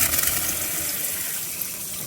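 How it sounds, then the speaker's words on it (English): Water runs steadily from a newly installed RV kitchen faucet, a continuous close hiss and splash with no talking. "Water's on."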